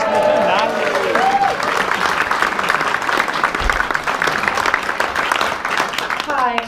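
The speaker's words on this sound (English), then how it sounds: "Round of applause for the gymnast." An audience at a theatre premiere applauds a gymnast, sustained dense clapping filling the clip with a voice briefly audible at the start and end.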